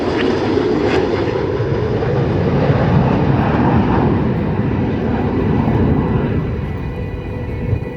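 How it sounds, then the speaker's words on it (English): RAF Red Arrows jets roar past during a flying display at EAA AirVenture Oshkosh, a loud, sustained, rumbling engine wash that swells and slowly fades, heard alone without talk. "The aircraft running in from the left are going to fly coordinated rollbacks from the inside to the outside of the formation"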